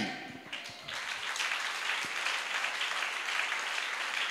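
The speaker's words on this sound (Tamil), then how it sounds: "என்ன விசுவாச கைத்தட்டு" A church congregation at a Tamil deliverance prayer meeting breaks into steady applause, a few scattered claps building into a sustained, even wash that holds for several seconds, without talk.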